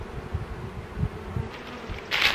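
A dense, low buzzing of a queenless honeybee colony during a hive merge, steady and close, swelling slightly in waves with a brief brighter rustle near the end.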